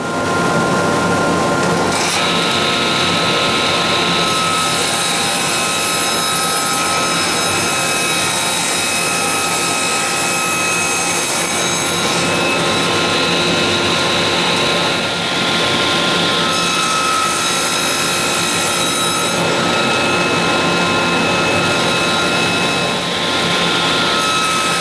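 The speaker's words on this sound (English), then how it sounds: "we're going to get started by cutting some squares of 3/4 inch ply, 4 inches by 4 inches" A power saw cutting squares of 3/4 inch plywood, a loud, continuous whine with cutting noise that shifts pitch slightly over about 25 seconds, with no talking.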